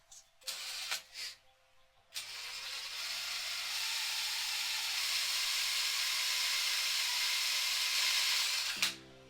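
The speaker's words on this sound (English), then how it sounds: "I'm going to put a little bit of WD-40" WD-40 lubricant sprayed onto a dethatcher frame bolt in a long, steady hissing burst of about seven seconds, preceded by a few short clicks and bumps as the can is readied.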